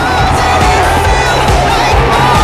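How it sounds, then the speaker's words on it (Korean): A packed baseball crowd roars at Kia Champions Field after the Kia Tigers score a run, a loud, continuous wall of cheering and shouting with no break. "챔피언스 필드가 환호로 들썩입니다."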